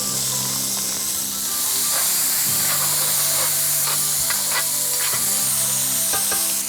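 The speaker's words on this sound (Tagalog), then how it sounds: "We are going to saute this for around 8 to 12 minutes." Chicken and chorizo sauté in a pan with onions for arroz valenciana, a loud continuous sizzle and hiss with scattered stirring scrapes and clicks throughout, no voices.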